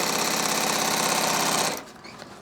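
An older sewing machine stitches a tote bag with a drop liner, running with a loud, steady, rapid mechanical whirr for under two seconds before stopping abruptly into quiet rustling.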